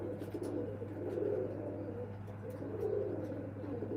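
Pigeons coo softly in low, rolling phrases that swell twice, heard at a moderate distance against steady background hum.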